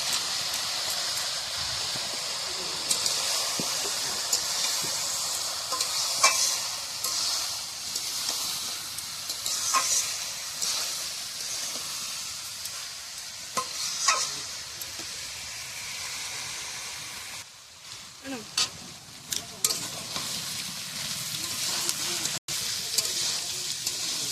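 Cashews and raisins frying in oil in a pan in a home kitchen, a steady hiss and sizzle with scattered pops and clinks that carries on throughout.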